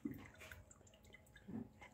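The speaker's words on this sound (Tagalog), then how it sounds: "ilalagay ko muna dun sa strainer para maalis yung tubig" Fruit cocktail being drained in a strainer for a macaroni fruit salad, with two short, soft splashy pours of liquid at the start and near the end and quiet dripping in between.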